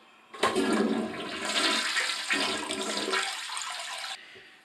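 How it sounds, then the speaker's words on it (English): A toilet fitted for a bidet seat installation flushes close by, a loud rushing gush of water that drains down over about four seconds before fading out. "So we'll flush it, and that way there's not a ton of water when we disconnect this hose."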